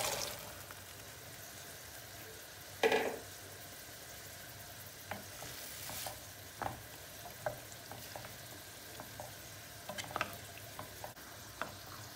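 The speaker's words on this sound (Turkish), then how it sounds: "Haşlamış olduğumuz fasulyeyi suyuyla beraber döküyoruz arkadaşlar." Boiled beans and their cooking water tipped into a hot, sizzling pot, a quick splash followed by soft, faint crackling and light stirring scrapes in a quiet kitchen.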